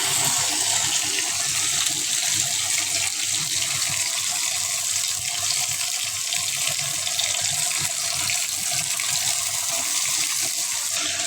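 Water is poured into a cooking pan of spices being fried down for a fish dish, giving a steady, continuous splashing and hissing rush that holds at an even level throughout, with no talk over it.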